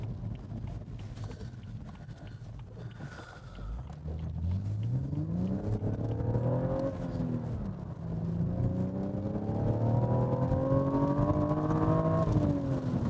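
A BMW M135i engine on a damp, wet day revs twice, each time climbing smoothly in pitch to a high, sustained note, heard fairly close and clear with no talking.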